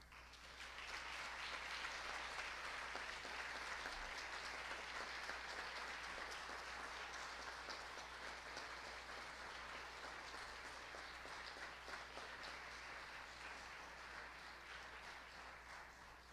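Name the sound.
applause for Maestro Domingo Serrano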